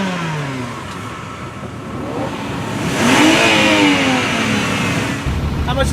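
Ferrari 360 Modena engine revving loudly at a drag strip on a Friday night, with a rising rev swell in the middle, close and dominant over background crowd noise.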